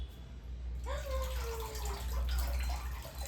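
Tap water running over chickpeas being washed, a steady close rush with a brief rising tone as the flow shifts, and a voice faintly present underneath.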